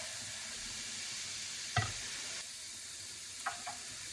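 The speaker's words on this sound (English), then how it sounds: "Now I'm going to add our garlic. 5 cloves of garlic." A pan sizzles quietly and steadily as five garlic cloves go in for a creamy Tuscan chicken pasta, with a couple of brief soft clatters and a faint hiss, close and without speech.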